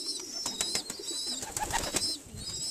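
Pigeons coo softly inside a loft with young birds, making short repeated coos and faint fluttery calls close by, with no talking over them.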